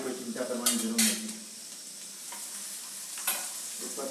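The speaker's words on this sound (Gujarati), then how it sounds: "આપણે જે તળ્યા એ તળ્યા માટે એ તળેલું તેલ આપણે વાપરીશું માટે આ ઉભરો આવે છે." Reused frying oil foams and sizzles in a pan while egg masala for Surat-style egg ravaiya is stirred, soft scraping strokes over a low steady frying hiss, fairly quiet and without talk.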